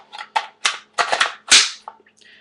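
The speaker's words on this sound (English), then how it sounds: "let's go ahead and put a mag in real quick" An AK-47 rifle being loaded: a short series of sharp metallic clicks and clacks as the magazine is seated, close and fairly loud, followed by a few fainter rattles.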